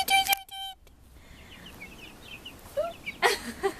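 Chickens cluck and call close by on a farm, short bursts scattered over soft background noise, with a few higher chirps near the end.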